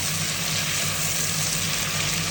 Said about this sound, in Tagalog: At halo-haloin po natin.